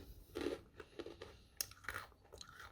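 Close crunchy chewing of freeze-dried OneTang banana chips, a series of crisp bites and mouth crunches in a quiet room with no talking.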